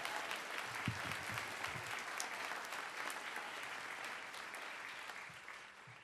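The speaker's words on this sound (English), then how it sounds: "Can we give Kelly one more round of applause?" Audience applause at a middle school graduation ceremony, a steady sustained wash of clapping that fills the whole stretch at moderate level and tapers slightly toward the end.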